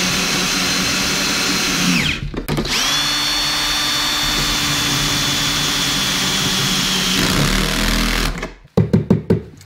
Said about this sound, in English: now it's time to bolt down the aluminium